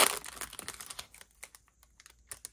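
Foil pack of 1997 Bowman Chrome trading cards being torn and peeled open at close range, a dense burst of crinkling and tearing that thins into scattered light crackles and clicks.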